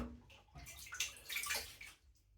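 Water runs and splashes at a bathroom sink while a man wets his face before shaving with a vintage Gillette Aristocrat Slim safety razor, a close, steady rush with small splashes rising and falling over a couple of seconds.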